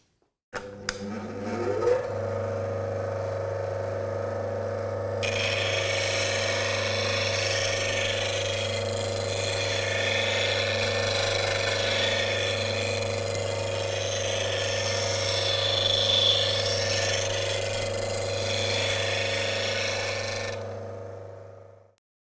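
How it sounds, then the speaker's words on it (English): A bench grinder spins up with a steady motor hum, then a woodturning gouge is pressed against the grinding wheel, giving a long continuous hiss of sharpening before the wheel winds down at the end. "which allows the bevel here at the tip to make full contact with the wheel. And then you're ready to sharpen."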